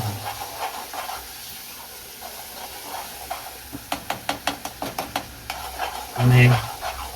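A vegetable patty mixture roasts in a pan with a soft sizzle, then a quick run of rhythmic tapping scrapes from a spatula, ending in a brief louder clatter.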